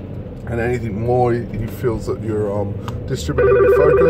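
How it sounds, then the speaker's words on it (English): An incoming phone call ringing as a repeating electronic trill near the end, starting under someone talking steadily about stock trading and focus. "that's a phone call coming in"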